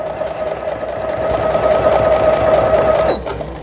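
A Brother XL 9500 sewing machine runs steadily for about three seconds, stitching with a fast, even whirring hum and mechanical ticking before stopping.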